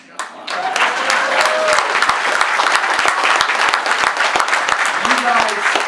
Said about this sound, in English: You guys, I think that should get some rousing applause.